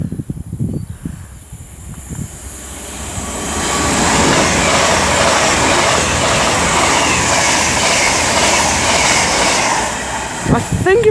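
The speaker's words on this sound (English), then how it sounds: "the next train to pass by is going to be 2 Avanti West Coast class 2-1 Super Voyagers from Birmingham and New Street to London Euston" Two Avanti West Coast Class 221 Super Voyager diesel units pass at Marston Green on the West Coast Main Line, a loud sustained roar building up close and holding for several seconds before easing, with brief talk at the start.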